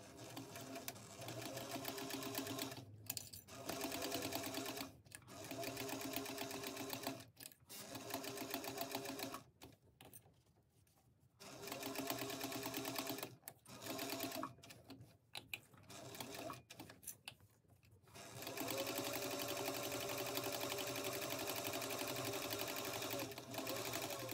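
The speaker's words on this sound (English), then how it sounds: "take it over to the sewing machine and just top stitch with an eighth of an inch seam allowance" A sewing machine top stitches fabric for a bag in fast, steady bursts, stopping and starting several times with brief pauses between stitching runs, close by.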